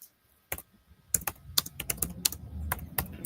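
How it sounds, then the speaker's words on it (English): Rapid, uneven clicking of keys on a computer keyboard, close and fairly quiet, in irregular bursts of keystrokes with no talk. "I'm typing to Glenn right now."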